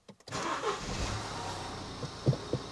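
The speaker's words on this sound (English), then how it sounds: "put it back in, I'll start the car up this time." A 2012 Mini Cooper D with a 1.6 diesel engine is started. A brief cranking stutter catches into a steady, close idle that settles after the start, with a few small clunks near the end.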